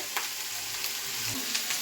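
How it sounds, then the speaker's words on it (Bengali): Carrots frying in a pan for dinner, a steady close sizzle with a few soft stirring clinks, no talking. "রাতের খাওয়া আলু ফুলকপি আর হচ্ছে গাজর ভাজা"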